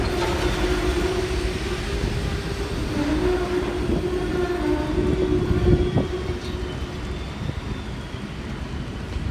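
A model train locomotive runs on track with a continuous close motor whine and rumble, steady and fairly loud throughout with a few faint clicks, no voices.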